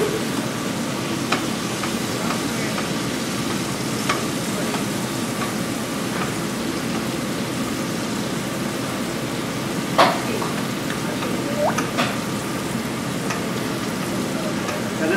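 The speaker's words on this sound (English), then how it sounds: "Basting that I'm doing, it helps the fish from drying out." Amberjack fish sizzling in a pan with butter as it is basted, a steady frying hiss throughout with occasional pops and utensil clinks, close and moderately loud.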